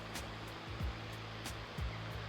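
River rapids rush at a campground swimming hole in New South Wales, a steady broadband roar of flowing water with soft low thumps of wind buffeting nearby.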